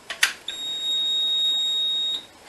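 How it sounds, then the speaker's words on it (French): A Merlin Gerin Type 2 fire alarm panel buzzer sounding after a triggered alarm, a few quick clicks followed by a steady high-pitched electronic tone lasting under two seconds. "30 secondes plus tard, parce que c'est la temporisation que j'ai réglée, 15 secondes je dirais, l'alarme retentit"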